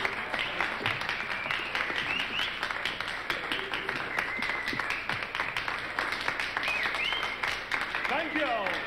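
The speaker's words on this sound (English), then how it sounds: "Now give them a big round of applause." Steady, moderately loud applause fills a stage show as performers are welcomed on, continuous clapping with a voice occasionally audible underneath.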